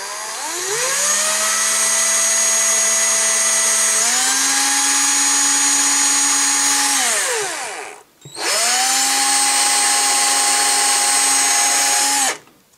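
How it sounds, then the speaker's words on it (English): Power drill boring a small pilot hole into the arm of a vintage Kenner Centurions toy: a loud, close motor whine that rises as the bit bites, runs steadily, stops briefly, then whirs again before cutting off. "I'm going to drill a little pilot hole into this arm and then use that as a guide for drilling the bigger hole"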